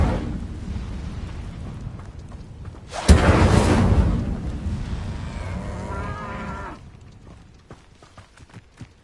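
A burst of the Incendio fire spell erupts in Hogwarts Legacy, a sudden loud whoosh that flares, sustains for about three seconds, then fades into quieter game ambience.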